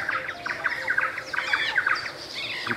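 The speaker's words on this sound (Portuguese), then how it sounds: "Que pássaro será isso, hein? Um pássaro aí, ó." A bird chirps repeatedly in quick, bright bursts of calls, fairly close and clear over a faint outdoor background, with no one talking.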